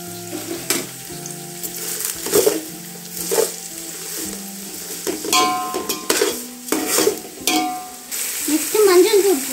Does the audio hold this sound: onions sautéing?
yes